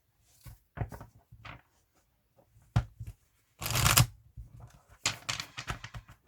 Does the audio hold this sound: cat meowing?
no